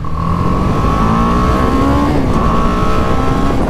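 BMW 310R motorcycle at full throttle, its engine droning loud and close with a rising pitch, briefly dipping once as it shifts before climbing again, continuous with no speech over it.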